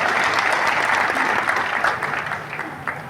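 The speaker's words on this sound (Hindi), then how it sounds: "श्रीमान नरेंद्र मोदी जी का, जोरदार ताली बजा करके।" A political rally crowd in Beohari gives loud, sustained applause for Prime Minister Narendra Modi, a dense wash of clapping that stays steady and close for the whole stretch with no voices rising above it.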